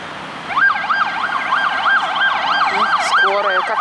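Loud wailing ambulance siren close by, rapidly alternating up and down in a steady repeating pattern over traffic noise.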